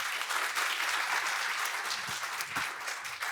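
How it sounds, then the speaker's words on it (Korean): Audience in a classroom training session applauds a demonstration team after a search-pattern drill; dense, steady clapping fills the whole stretch at moderate distance with no talk over it. "시범을 보인 팀에게 큰 박수 부탁드립니다"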